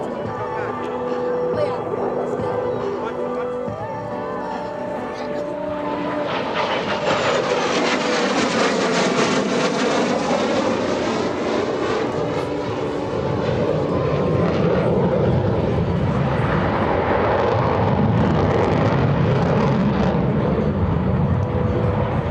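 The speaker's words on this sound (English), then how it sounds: "Captain Hiester will accelerate rapidly and snap the F-16 through a series of aileron rolls" An F-16C Fighting Falcon roars at an air show demonstration as it accelerates through aileron rolls, a loud jet roar that builds and sweeps in pitch as it passes, with talk over the top.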